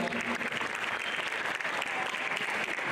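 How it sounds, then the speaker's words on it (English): A crowd at a high school National Signing Day ceremony claps continuously, a dense, fairly distant patter of many hands holding steady throughout. "let's give a big round of applause for this joyous occasion"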